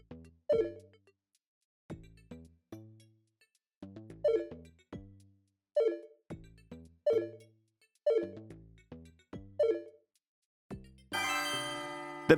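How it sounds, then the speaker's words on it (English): A toy game plays its electronic bell sound effect again and again, bright, tonal, chime-like dings at a fairly even pace, close and alone, ending in a burst of buzzy, harsher tone. "The bell one actually kind of sounds like a bell when you hold it close to your ear."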